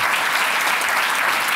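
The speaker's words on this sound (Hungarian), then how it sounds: "szeretnék kérni egy nagy tapsot Tóth Mátének." Audience applause for a guest at the close of a talk-show interview, steady dense clapping throughout a short burst.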